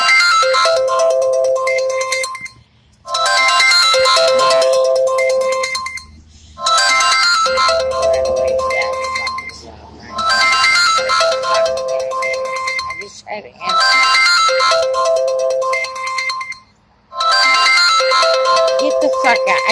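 A phone ringtone plays loudly and close, a repeating melodic tone in six bursts separated by short gaps, with faint background sound between the bursts.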